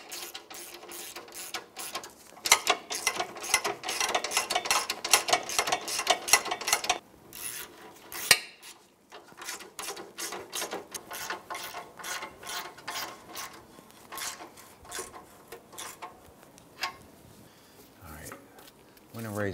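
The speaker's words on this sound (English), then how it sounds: "Let's go ahead and snug down the flange bolts up front here." A ratchet tightening the front catalytic converter flange bolts underneath a 2003-2009 Subaru Outback, with rapid clicking in long runs and short pauses, close by and fairly loud.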